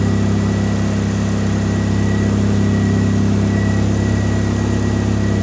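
A turbocharged Mazda Miata engine idles steadily while warming up, producing a loud, even, continuous hum with a constant low rumble and no voices.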